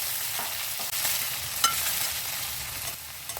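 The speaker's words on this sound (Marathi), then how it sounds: "लसूण थोडासा परतला की त्याच्यात आधी कांद्याची पात टाकायची ती चांगली परतून घ्यायची" Spring onion greens fry in a mustard seed and garlic tempering, giving a steady close sizzle with stirring scrapes throughout and no voices.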